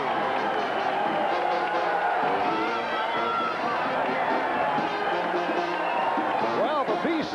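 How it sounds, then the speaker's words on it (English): Boxing arena crowd roaring and cheering steadily as middleweight fighter John Mugabi makes his entrance, a dense wall of voices with chatter and an announcer talking over it throughout. "And the crowd responding to the entrance"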